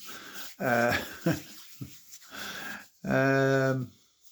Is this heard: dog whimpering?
yes